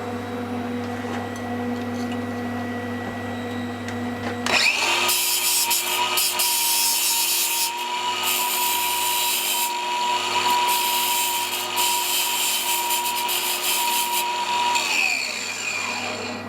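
Steady buzzing hiss of a TIG welder with a sharp tungsten tip, set to 20 amps on a foot pedal, joining a car wiper linkage. The arc starts abruptly after a quiet low hum and runs continuously for about ten seconds before cutting off.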